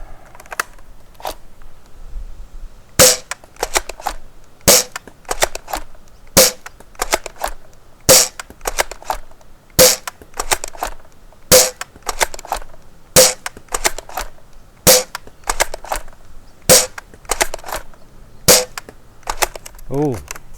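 A Worker Prophecy toy blaster with new silver metal internals fires Pro darts, giving a steady series of sharp, loud snapping shots about one per second, with mechanism clicks and handling noise between them.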